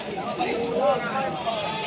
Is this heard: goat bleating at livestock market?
yes